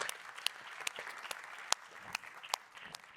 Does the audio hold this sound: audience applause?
yes